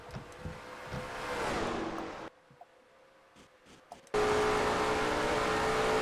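A Dodge Charger 500 race car in a racing video game: loud engine roar with gear shifts, a sudden cut to near silence, then the roar returns at full level.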